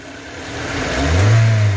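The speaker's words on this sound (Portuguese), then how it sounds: "eu vou pedir para o Juan dar uma acelerada lá no carro" A Kia Sportage engine with misfiring ignition coils revs up from a rough idle, the note rising and swelling over its final second, loud and close with no voices.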